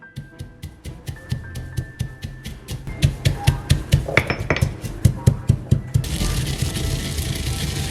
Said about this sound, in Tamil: ஸோ இந்த மெல்லியை போட்டுட்டு லைட்டா அடிச்சு விடுவோம்